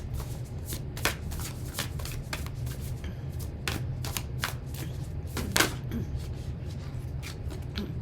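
Oracle cards being shuffled by hand during a tarot reading, with soft continuous riffling, quick crisp flicks and a few sharper slaps, close by and without talk.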